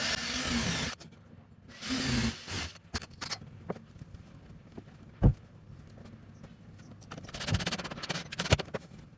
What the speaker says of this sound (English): I can drill and countersink these